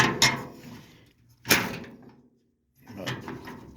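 A 1929 Chrysler car door fitted with a bear claw latch swings shut, giving three sharp, close metallic clunks spaced about a second and a half apart, with quiet gaps between them.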